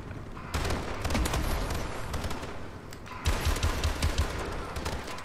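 Non-automatic gun fired shot by shot in an online shooter video game, dense bursts of loud gunfire and impacts filling the whole stretch, with a brief lull before the firing picks up again.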